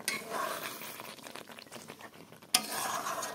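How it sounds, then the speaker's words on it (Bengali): Chicken fries in a pan while being stirred, giving a steady close sizzle with scraping utensil strokes and a sharp clatter near the end. "আজকে চিকেনটা একদম কষিয়ে বানিয়ে নিলাম, একটু ঝোল থাকবে না।"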